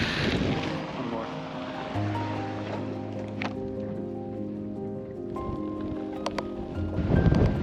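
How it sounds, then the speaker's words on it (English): Strong desert wind in Utah roars continuously across the mic with gusty low-end buffeting, while scattered clicks and a steady hum sit underneath. "Oh, it's so windy."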